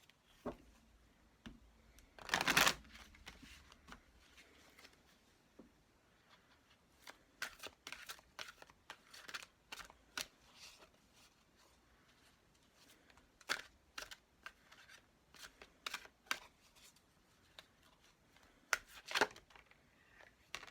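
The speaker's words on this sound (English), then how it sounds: "All the other Oracle decks I will shuffle live on camera." Oracle card decks are shuffled live close to the microphone in scattered quiet bursts of riffling and tapping, with one louder rustle early on and sporadic card snaps throughout, no talking.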